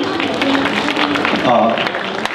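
Applause rises from the audience at a 2014 public-institution recruitment fair in Korea as a Korea Credit Guarantee Fund staff member comes up. Steady, close clapping runs under a voice and other sound.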